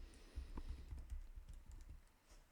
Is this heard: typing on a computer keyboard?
yes